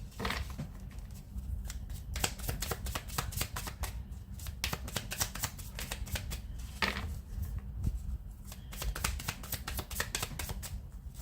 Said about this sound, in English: Card flipped over.